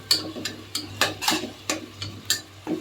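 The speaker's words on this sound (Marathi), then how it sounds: "ह्याला आपण तेलासमोर मस्तपैकी भाजून घेऊया." Masala paste for Maharashtrian prawn rice is stirred as it roasts in oil in a pan, heard as a close, regular series of spoon scrapes and taps under a faint sizzle.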